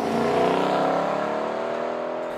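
A compact car with a Flowmaster performance exhaust revs up loudly, its throaty, buzzing exhaust note rising and then slowly easing off as the engine settles, heard alone without voices.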